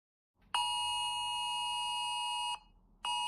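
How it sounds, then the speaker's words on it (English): An Amber Alert emergency alarm sounds a loud, steady two-tone blare for about two seconds, then cuts off briefly before starting again, with no talking. "this is the Amber Alert alarm"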